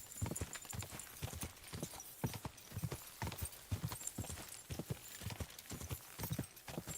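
Steady, rhythmic clip-clop of horse hooves trotting at an even pace in the video game Kingdom Come: Deliverance 2, continuous and fairly close, with a faint airy background.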